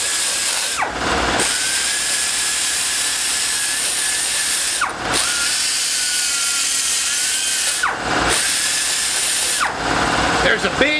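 Power tool porting the cylinder head of a 1989 350 TBI engine, a loud sustained high-pitched grinding whine that cuts off and restarts three times in short gaps, close and steady between pauses.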